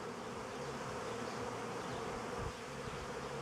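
Honeybees at an apiary gather to drink water, making a steady, close buzzing drone that continues without a break.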